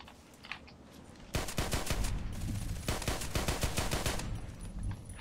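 Rapid volleys of H&K USP pistol fire in the online shooter Contract Wars: dense, sharp cracks in quick succession that start abruptly and keep going over steady background game noise.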